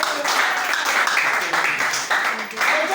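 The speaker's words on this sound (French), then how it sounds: "Acclamez pour le frère" A church congregation applauds a brother, steady clapping running throughout at close range and moderate loudness, with voices mixed in.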